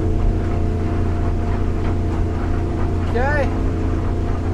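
A Yamaha 250 outboard runs on a 2017 Edge Marine 23'7" boat cruising at about 3,400 RPM and 20 mph, a loud steady drone with water rush throughout, while someone speaks briefly over it.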